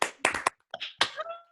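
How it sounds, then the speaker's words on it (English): Scattered claps and brief cheers from a handful of participants joined remotely at an online book launch, uneven and thin, a few separate bursts over a second and a half rather than a full crowd. "we're all going to clap and we're going to cheer for the three of them because they deserve it"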